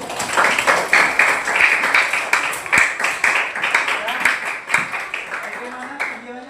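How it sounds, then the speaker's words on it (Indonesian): A classroom audience claps together, a dense run of quick hand claps lasting several seconds before fading, with voices mixed in. "Tepuk tangan dong."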